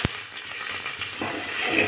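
Chopped onion hits a little hot oil in a pressure cooker, giving a sharp click followed by a steady, close sizzling hiss that keeps up for under two seconds.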